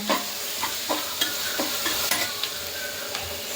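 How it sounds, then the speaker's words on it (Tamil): Onions and curry leaves sizzle and fry in a pan with a steady hiss, punctuated by several light scrapes and clinks of stirring, close up. "பொன்னிறமாக வணக்கும் வரை வணக்கவும்"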